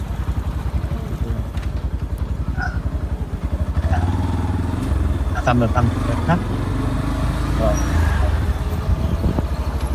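Motorcycle riding along a road in Shariatpur, a close engine drone with passing traffic and rattles, people talking over the ride throughout.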